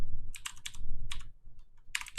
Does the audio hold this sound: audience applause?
no